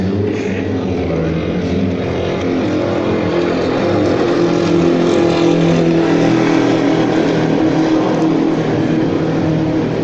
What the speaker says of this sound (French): Je peux voir les voitures passer